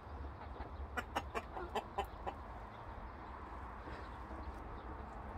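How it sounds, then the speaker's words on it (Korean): Chickens of three kinds cluck in a garden coop, a quick cluster of sharp clucks early on that fades into quieter background rustle, close by and without talk. "즐겁게 놀아. 예쁜 닭들."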